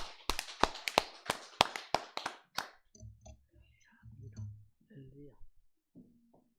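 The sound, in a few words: church congregation applauding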